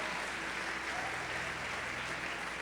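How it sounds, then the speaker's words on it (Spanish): A church congregation applauds the Lord during a sermon, producing continuous, dense clapping that stays level throughout, somewhat distant and moderately soft, with no talking. "Dele fuerte aplauso al Señor."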